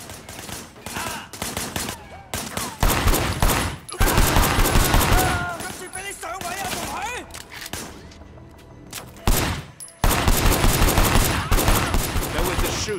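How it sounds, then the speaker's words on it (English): Gunfire in the Sleeping Dogs video game, a shooter firing from a car's passenger window: loud bursts of shots and rapid volleys over a busy, continuous game mix. "There was the shooter, firing shots from the passenger window."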